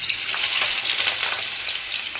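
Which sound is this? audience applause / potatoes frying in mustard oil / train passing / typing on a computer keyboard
potatoes frying in mustard oil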